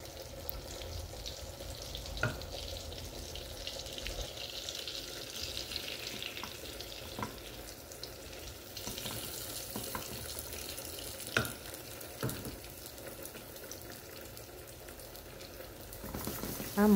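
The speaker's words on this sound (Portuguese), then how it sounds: "Pronto, agora é só fritar." Chicken fritter batter frying in melted butter in a pan, a steady low hiss of sizzling with occasional soft pops and clicks throughout, close and fairly quiet, no talking.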